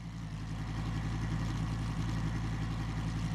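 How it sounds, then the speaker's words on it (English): Car engine idling in Automobilista 2, a low steady rumble with a faint pulsing throb, close and even throughout, with no voices over it. "You can just listen to the car here."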